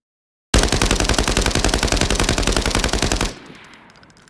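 A T951 rifle in Arena Breakout Infinite fires one sustained, loud fully automatic burst of evenly spaced shots. It starts abruptly after a short silence and runs about three seconds before cutting off into a brief fading echo.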